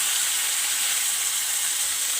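Minced meat (keema) fries in a pan with a steady, dense sizzle and hiss, continuous and fairly close, with no voices over it.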